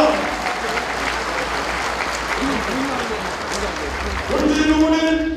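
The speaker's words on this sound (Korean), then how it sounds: "여러분 열렬한 박수를 보내주시기 바랍니다." A crowd at a national rally of small-business representatives bursts into sustained applause, many hands clapping loudly and evenly while a voice talks over it; a louder stretch with voices comes near the end.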